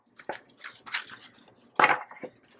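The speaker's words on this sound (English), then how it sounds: "Do one more shuffle for you." A deck of tarot cards is shuffled in a few quiet, separate bursts of riffling and slapping, with short pauses between them.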